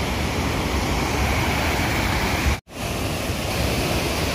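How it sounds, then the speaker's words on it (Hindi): Water rushing steadily through the large Meja dam in Bhilwara during flooding, a loud, continuous broadband roar with no voices and a brief dropout near the end. "ये देख सकते पानी पानी है चारों ओर।"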